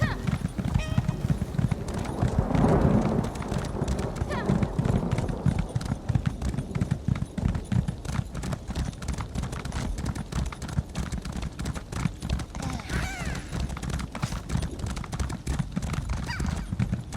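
Horse hooves galloping along a road in Elder Scrolls Online, a steady rapid clip-clop running throughout, loud and close, with an occasional whinny.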